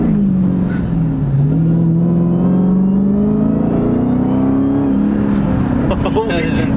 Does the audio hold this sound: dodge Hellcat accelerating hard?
yes